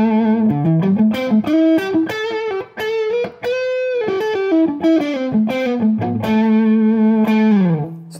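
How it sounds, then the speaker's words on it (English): A distorted electric guitar plays a melodic run of sustained, bending notes through an overdriven amp, loud and upfront with no talking. "now I'm gonna run you guys through how it sounds with a little bit of distortion"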